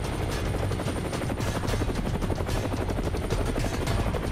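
An Indian Air Force helicopter lifting off with a patient aboard at a high-altitude battlefield post, its rotor and engine roar loud and steady, with a rapid chopping beat throughout and no voices.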